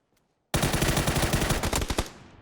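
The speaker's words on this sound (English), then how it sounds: "Beautiful headshot onto Jekka" A sustained burst of rapid automatic gunfire crackles loud and close in the shooter game PUBG, lasting about a second and a half after a short silence.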